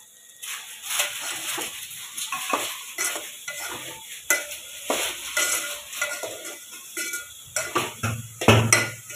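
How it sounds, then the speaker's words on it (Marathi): Chana dal and jaggery sautéing in a pan, stirred with a spoon that scrapes and clatters against the metal in uneven bursts over a light sizzle, close by with no speech. "इथं मी गूळ पण टाकून घेते डाळीमध्ये आणि हे छान आता परतून घेणार आहे"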